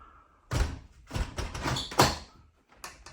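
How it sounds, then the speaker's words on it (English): A French door being swung shut after its hinges were loosened, straightened and retightened, giving several close wooden thuds and a latch click in a quiet room, with a smaller knock at the end. "And then when we close the door"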